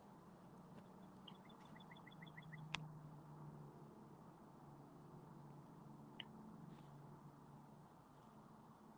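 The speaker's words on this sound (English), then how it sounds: "why do you hear birds chirping?" Birds outside a window give a short, faint run of rapid chirps and a few isolated chips over a quiet background hum, with no talking.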